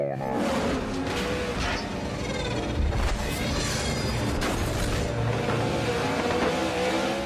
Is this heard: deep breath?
no